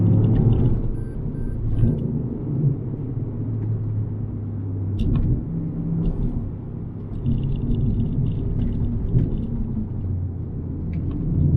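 A steady, loud engine rumble of a Toyota Yaris GR under way, with low droning tones that shift slightly as it drives, continuous throughout with no talking.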